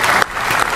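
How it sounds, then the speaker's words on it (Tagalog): Audience clapping at a Philippine political speech, a dense burst of applause that dips briefly then swells again, loud and close, with no voices over it. "Sino yung mga pumalakpak?"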